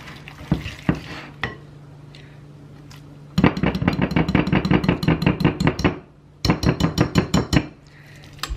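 Cheese ravioli filling being mixed in a bowl, a spoon knocking and scraping in quick rhythmic bursts of clatter, close and fairly loud, with quieter pauses between the runs.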